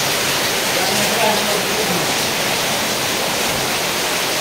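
Rainwater rushes down a set of stairs in a steady, loud wash of broadband noise that stays even throughout, with no clear voices.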